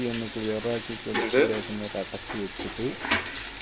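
Onions frying in sunflower oil and ghee, sizzling softly while being stirred, with a person talking over the cooking sounds.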